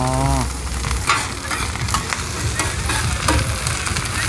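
Crispy oyster omelette stir-fried in a large pan at a busy Thai street stall, with a steady loud sizzle of hot oil and repeated scraping spatula strokes against the metal pan.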